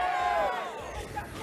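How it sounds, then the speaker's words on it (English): A large crowd chants 'USA' at the EVO 2009 Street Fighter IV grand finals, a loud, sustained roar of massed voices with a commentator talking over it. "Crowd chanting USA."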